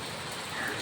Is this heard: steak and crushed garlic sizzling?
no